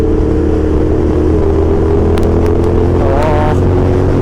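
Ferrari exhaust note while driving on the road, a loud, continuous engine drone with low rumble, and a brief rising rev near the end.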